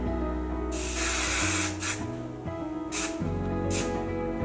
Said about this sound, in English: Now I go in with my Pantene and just give it a light spray just to hold it a little bit